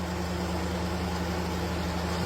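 An idling car engine with a turbo rumbles steadily up close, topped by a continuous high whistle and steady hiss from the turbo.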